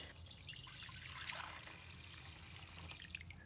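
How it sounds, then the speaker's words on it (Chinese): Clean water poured into a bowl over raw chicken breast with salt, a soft continuous trickle and splash, faint and close in a quiet kitchen. "加入清水"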